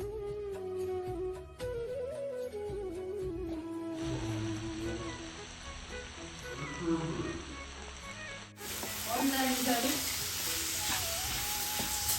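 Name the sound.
lady fish curry masala cooking in a pan with water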